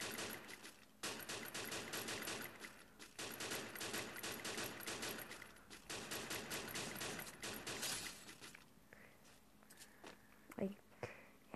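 Rapid bursts of automatic gunfire in a video game, loud and near, run almost continuously for about eight seconds before giving way to quieter game sounds and a single sharp thump near the end.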